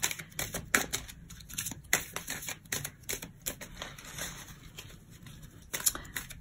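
A deck of oracle cards is shuffled by hand in rapid, papery riffles and slaps, close and fairly quiet, with bursts of crisp clicks and no speech.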